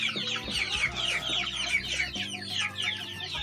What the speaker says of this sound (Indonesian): Ternyata di sini dia melihara ayam ya.